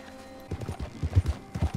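Horse hooves pound in the Red Dead Online video game, a rapid run of deep, heavy thuds from galloping horses close by, building into a cluster of hard impacts during a horse collision.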